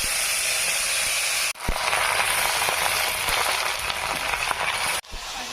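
Washed vegetables go into hot mustard oil with bay leaf and panch phoron for a pumpkin and Malabar spinach dish, giving a loud, steady sizzling hiss that cuts out briefly twice.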